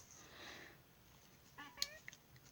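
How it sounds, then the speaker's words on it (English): A house cat lets out a short, faint meow, one brief call near the end of a quiet indoor stretch with soft background hiss. "my cat just interrupted my recording"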